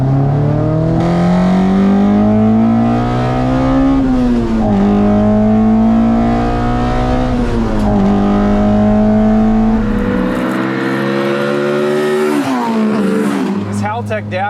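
A street car with individual throttle bodies, tuned toward 10,000 RPM, revs hard and loud, climbing and dropping through several gear-like pulls before easing off near the end.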